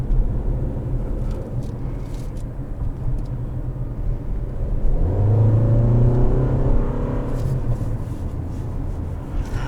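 Cabin sound of a 2021 Toyota RAV4 XLE with the 2.5 engine while driving: a steady low rumble and road noise that swells briefly as the engine pulls harder midway, then settles, with no speech.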